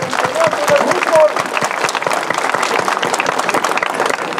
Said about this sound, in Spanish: Un aplauso a ella, por favor.